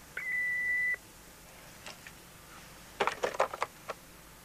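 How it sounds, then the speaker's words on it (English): A single clean electronic tone sounds from a home answering machine after the outgoing greeting, followed by faint clicks and a few soft clattering taps. "Leave a message when you hear the beep."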